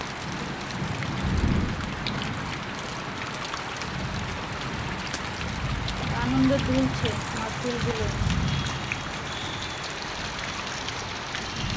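Continuous rain falls with a dense, even hiss, while a voice speaks softly over it partway through.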